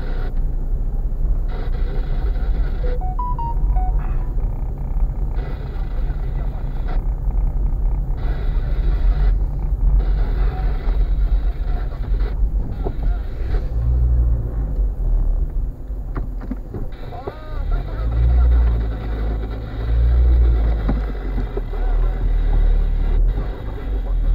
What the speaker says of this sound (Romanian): Hai că să întorc și eu mașina